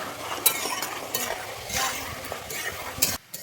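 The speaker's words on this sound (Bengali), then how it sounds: "দিয়ে আমি আবারও নেড়ে নিচ্ছি" Spices and salt being stirred into ash gourd in a pan, a close, steady scraping and sizzling with irregular spoon strokes, ending in a brief pause.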